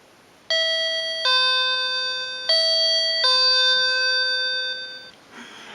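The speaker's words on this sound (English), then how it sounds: "this is the intercom system for the doorbell, and when somebody rings the doorbell" A two-tone electronic intercom doorbell chime in a home in Sendai, Japan rings clearly, repeating its ding-dong pattern several times with no one talking, then cuts off.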